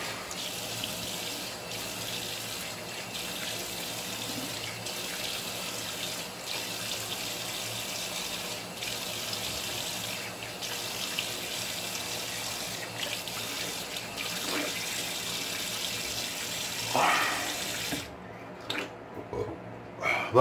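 Tap water runs steadily into a sink while rinsing after a shave, a constant moderate splashing rush that cuts off near the end, leaving a few faint clatters.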